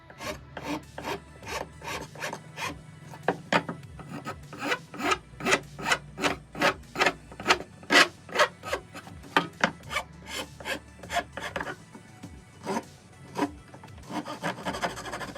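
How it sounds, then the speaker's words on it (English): Repeated rasping strokes of a file and sandpaper on wood, steady back-and-forth rhythm, close and clear, with no talking. "Now it's going to use a little file work, a little sanding"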